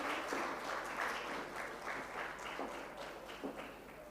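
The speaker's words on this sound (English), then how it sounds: "Keep that applause going for them" An audience in a hall claps steadily at the launch of Jamaica's National Multidimensional Poverty Index, the applause moderately loud with individual claps audible and slowly fading over a few seconds.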